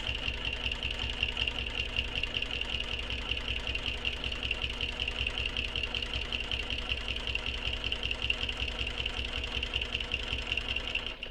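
A sewing machine runs steadily as it stitches back over earlier seam lines on a circular bag, a close, continuous, even mechanical whirring and rapid clatter with no breaks and no talking.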